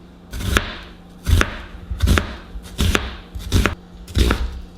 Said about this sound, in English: I've got half of a yellow onion here. We're just going to slice it and add it to the sauce when we make it.